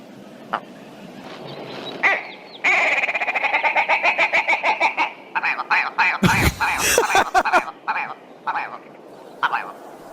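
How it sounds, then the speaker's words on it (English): A willow ptarmigan calls: a fast run of rattling, stuttering clucks that speeds up, followed by harsher croaks and a few scattered notes, fairly close. "It's the willow ptarmigan."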